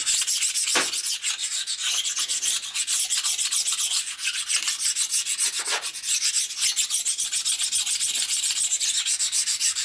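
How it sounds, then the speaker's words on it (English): Rhythmic gritty rubbing of a small sanding stone deburring a 6-inch vertical milling machine vise, repeated strokes close up and fairly loud, with a few sharper scrapes. "Just got a little sanding stone here."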